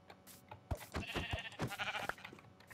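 Sheep bleat in a short flurry of overlapping, wavering calls, several animals close by and fairly loud, with no talking over them.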